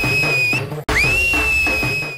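A man whistles a steady, piercing high note, breaks off briefly, then resumes with a rising slide into a long sustained tone over a background of film music.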